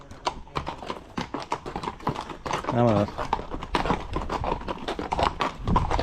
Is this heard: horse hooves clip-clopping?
yes